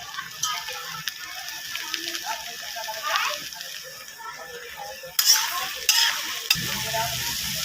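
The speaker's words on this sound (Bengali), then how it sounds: "এই সয়াবিনটাকেও আমি ভেজে নেব তেলের মধ্যে" Soya chunks fry in hot oil, giving a crackling sizzle broken by scraping stirs and a clattering utensil. It grows louder and brighter near the end, and a voice is briefly heard in the background.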